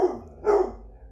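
A dog barks at a package delivery, two loud nearby barks a fraction of a second apart, the second longer and rougher, with no talk over them.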